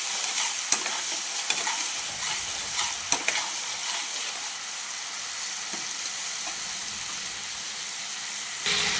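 Ginger-garlic paste fries in hot oil in a pan, a continuous sizzle broken by a few scraping knocks as it is stirred, close and fairly quiet, with no one talking.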